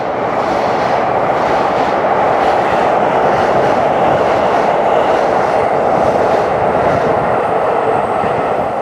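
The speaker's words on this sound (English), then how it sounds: "as another train goes by" A train rolls steadily past in Japan, a loud, continuous rushing roar with rapid clickety-clack of wheels on rail joints that holds for several seconds with no voices.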